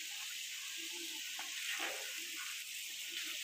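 Salted shol fish curry with onion and tomato simmers in hot water on the stove, giving a steady soft hiss and faint bubbling throughout with no voices.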